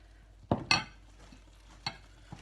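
Milk and eggs are whisked into flour for crêpe batter, heard as a few brisk close-up scrapes and taps of a whisk against a bowl, spaced out and without talk.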